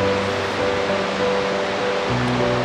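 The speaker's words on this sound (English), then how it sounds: "here's the waterfall reveal" An Icelandic waterfall roars steadily as a dense, even rush of water, heard close and continuous throughout with no voices over it.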